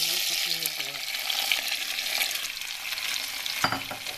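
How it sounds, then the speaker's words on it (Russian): Steady sizzling of onions and tomatoes frying in a pan for tom yum soup, with occasional stirring scrapes and a sharper clatter near the end; no one speaks. "И продолжаем все это обжаривать."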